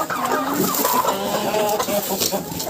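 Chickens, including a young hen, clucking busily on a farm in winter, several birds close by making overlapping, continuous chatter and squawks over a brief span.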